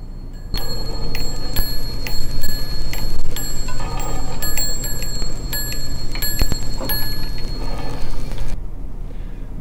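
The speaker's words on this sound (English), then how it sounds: "The ball takes part of that charge and goes back and forth between the two bells until they are both discharged." A small metal ball in an electrostatic bell ringer shuttles between two bells, striking them in a rapid, continuous, fairly loud ringing chatter that runs almost the whole clip before stopping abruptly near the end.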